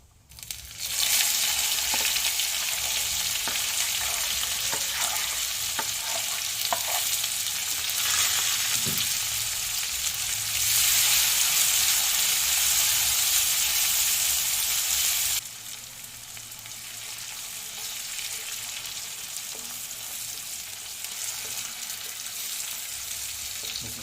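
Onions sauté in a hot pan with a loud, steady, close sizzle, scattered with faint scraping stir sounds, easing to a softer frying hiss partway through, with no talking.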